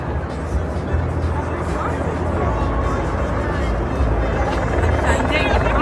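About six helicopters circle low over Times Square during a New Year's Eve countdown, a continuous throbbing rotor drone that fills the scene beneath crowd babble and nearby voices.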